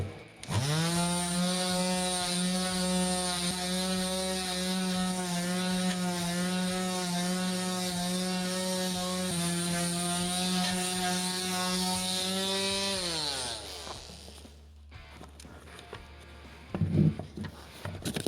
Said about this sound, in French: donc premier ponçage au 80.